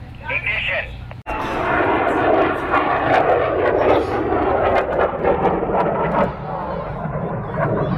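A model rocket motor ignites after a brief pause, bursting into a loud, rough, sustained roar and hiss that carries on to the end, with voices audible around it.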